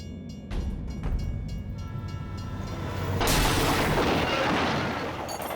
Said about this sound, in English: there's a train hurtling down the track